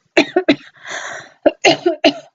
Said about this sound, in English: Still got the old cough that's been lingering for a while.